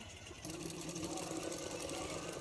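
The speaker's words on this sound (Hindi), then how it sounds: "तो देखो एक सिलाई कर दिया" Sewing machine stitching a blouse sleeve with lining fabric, a fast continuous mechanical whirring rattle that starts abruptly and runs steadily, close and moderately loud.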